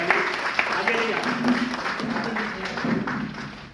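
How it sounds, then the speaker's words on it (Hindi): An audience applauds a company chairman at a direct-selling business event, a moderate patter of clapping running beneath someone speaking loudly through a microphone. "आपको एक बार हमारे ग्रेट चेयरमैन के लिए जोरदार ताली होनी चाहिए।"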